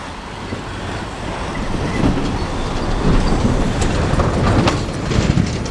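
A CSX coal train rolls steadily past close by, a dense rumble with metallic clatter and rhythmic wheel clacks building slightly louder toward the end.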